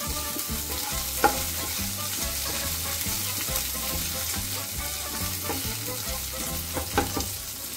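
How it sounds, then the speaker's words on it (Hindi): Garlic and ginger fry in a pan while being stirred, a steady close sizzle with scraping strokes and occasional sharp clicks of the utensil against the metal, no voices. "लसूण आनी अदरक इल्ली ती आतां स्टर करून घेवची मातशी"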